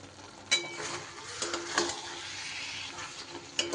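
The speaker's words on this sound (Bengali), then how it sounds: "ভালো করে আমি মিশিয়ে দেব তেলটা" A spoon stirring raw mustard oil through a green tomato dish in a pan, with soft scraping, a few sharp clinks against the vessel and a faint sizzle underneath, close and fairly quiet.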